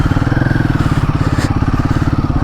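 Royal Enfield Guerrilla 450 motorcycle engine running rough and loud up close, a steady throbbing idle that sounds close to stalling, with no talk over it.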